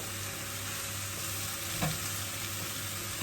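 Spinach stems dropped into a hot frying pan for a plantain frittata give a steady close sizzle, with one brief louder hiss and clatter partway through and no talking.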